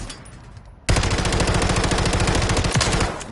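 Rapid SPAS shotgun blasts in Modern Warfare 3 erupt after a quiet lead-in, a dense, loud run of repeated shots continuing for about two and a half seconds before easing off.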